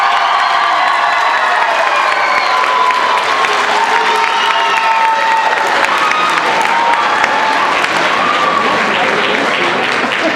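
A crowd at a middle school debate tournament claps loudly and steadily for the second-place team, dense continuous applause with scattered cheers and children's shouts mixed in throughout.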